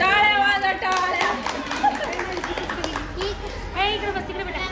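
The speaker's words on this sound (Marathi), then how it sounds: "टाळ्या वाजा टाळ्या." A crowd of women and children clapping at a haldi kunku gathering, a scattered burst of applause heard beneath loud overlapping chatter and singing voices.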